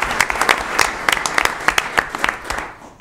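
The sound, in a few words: audience applause at board meeting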